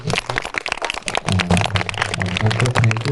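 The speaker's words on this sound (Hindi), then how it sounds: "सर के प्रयास के लिए भी आप लोग एक बार ताली बजा दीजिए" Schoolchildren in a primary school clap together in a dense, sustained round of applause that fills the whole moment, loud and close.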